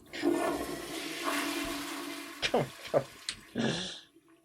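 A toilet flushes close by, a swirling gush of water that tapers off into several gurgling bursts and a final short rush before falling quiet.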